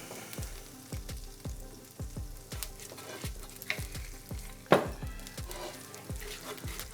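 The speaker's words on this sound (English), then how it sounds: "So I'm going to add a little bit more oil and scrape that up." A metal utensil scrapes rhythmically across the bottom of a frying pan with freshly added oil after steak. The oil sizzles steadily underneath, and the scrapes come about every half second, close and fairly loud, with one sharper clank.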